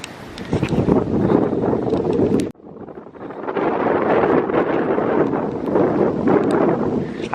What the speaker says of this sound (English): you can tell it's still kind of windy out here